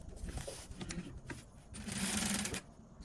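A sewing machine stitching the hem of thick winter trousers, with a soft, rapid mechanical whirr that swells louder midway and then fades, heard fairly quietly with no speech over it.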